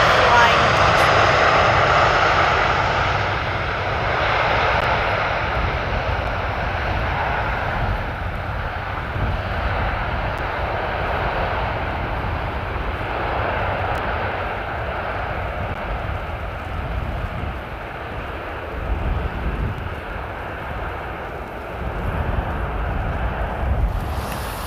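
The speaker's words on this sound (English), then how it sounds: "A mighty aircraft yet over here again. And we have the flying touchdown." A large airliner lands at Amsterdam Schiphol Airport with a loud, steady jet roar that swells and holds throughout, wind buffeting the microphone and a voice speaking over it.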